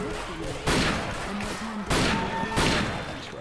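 An auto shotgun fires in Left 4 Dead 2 on a custom map, its heavy blasts landing in a few loud, spaced booms over constant game noise.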